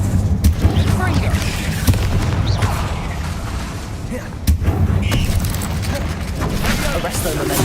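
Confringo fire spell cast in Hogwarts Legacy, sharp explosive bursts and booms within dense, loud game combat noise, with a voice speaking over the action.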